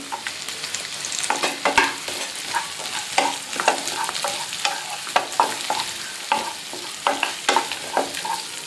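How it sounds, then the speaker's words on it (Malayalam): Sliced onion and thinly cut capsicum sauté in a pan for chicken chilli, a continuous sizzle with frequent sharp scrapes and clatters of a spatula stirring, close and busy with no voices. "ഒരു 2 മിനിറ്റ് ഒന്ന് വഴറ്റുക."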